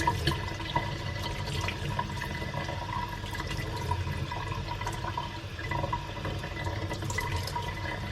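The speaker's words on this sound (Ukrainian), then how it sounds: "Водичку тепло відкриваю" Warm water runs steadily from a household tap while a pet snail is rinsed, a continuous splashing flow with faint drips, close and alone without talk.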